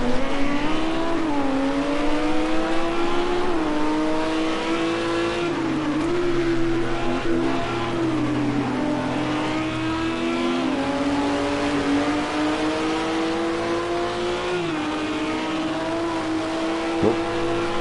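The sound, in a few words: race car engine revving, British GT at Snetterton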